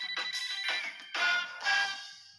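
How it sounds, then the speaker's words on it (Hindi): A telephone rings in repeated electronic bursts, a bright warbling tone in four surges at moderate volume with nothing else around it. "फोन की घंटी बजते ही"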